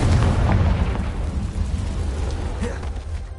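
A Confringo spell in Hogwarts Legacy bursts into a loud, dense explosive blast that rolls off into a rumbling, noisy decay over a few seconds.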